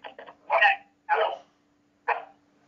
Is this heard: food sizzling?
no